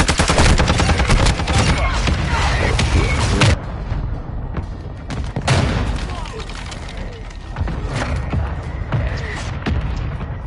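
Heavy gunfire from a Bass P gun in a video game: fast, loud bursts of shots mixed with booming impacts, dense at first, then thinning into scattered volleys with short lulls.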